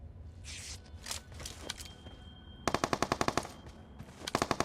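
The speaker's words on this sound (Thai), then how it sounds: "ไอ้มันยิงกันว่ะ" Rapid bursts of automatic gunfire in PUBG Mobile played on Gameloop, two quick volleys of sharp repeated shots over faint in-game footsteps and rustling, fairly close and crisp.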